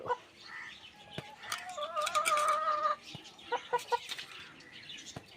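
A mother hen, just back from foraging in the yard, clucks in short close bursts and a few longer drawn-out calls, with brief pauses between them.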